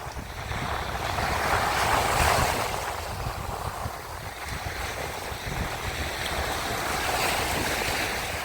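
Steady Black Sea surf on the shore at Odesa washes continuously with a broad rushing roar, mixed with wind buffeting the microphone.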